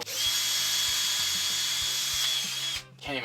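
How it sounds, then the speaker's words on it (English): A power drill with a dull bit grinds against plastic without cutting, testing a 3D-printed gearbox, giving a steady, loud whine with repeated low knocks before it cuts out near the end. "Can't even drill a hole in plastic."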